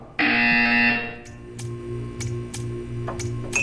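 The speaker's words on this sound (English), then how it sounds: "You will hear a buzzer. When you hear the buzzer, stare at the art." A buzzer sounds in the video game Portal 2, one loud, steady electronic tone lasting under a second. Fainter ticking and humming machinery carry on behind it.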